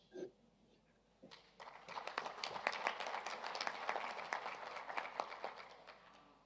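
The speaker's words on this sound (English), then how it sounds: "There was a round of applause for your contribution" An audience at an OSCE parliamentary conference on combating corruption applauds after a speech, faint scattered clapping that builds into a steady round of applause and continues, heard from a distance in a large hall.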